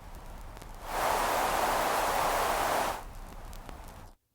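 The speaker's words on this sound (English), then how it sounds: "noise is just basically a sort of multi-band sort of hiss, just general platter noise" A vinyl-emulation plugin's noise layer produces steady broadband hiss and turntable platter noise, swelling up loudly for about two seconds over a fainter background hiss before cutting off abruptly.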